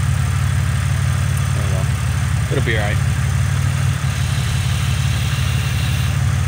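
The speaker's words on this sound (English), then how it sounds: "Seems to be idling just fine." A car engine idles steadily after repair work on its wiring harness, a loud, even low rumble with a faint tick, while a person briefly speaks over it.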